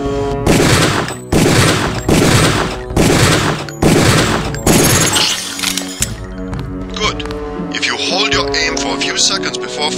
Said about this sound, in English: Release the first target and take a few shots with one of the pistols until it is destroyed.